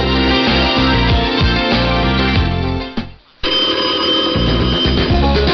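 A telephone bell jingle in a radio promo rings in a bright, repeating pattern, loud and musical, cutting out briefly near the middle before resuming.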